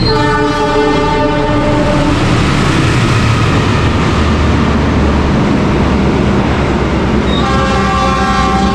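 Argo Merbabu passenger train bound for Semarang Tawang passing close by, a loud continuous roar and rumble of wagons with a horn blast at the start and again near the end.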